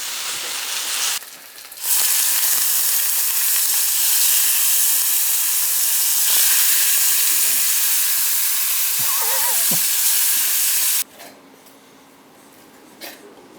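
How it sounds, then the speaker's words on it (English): Duck breast searing in a hot pan, giving a loud, steady sizzle and hiss that runs close and continuous for several seconds and then drops away, with no talk. "we'll sear them hot on both sides"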